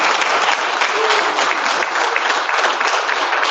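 A church congregation applauds a guest speaker being introduced, a loud, dense wall of clapping that stays even and continuous from start to finish.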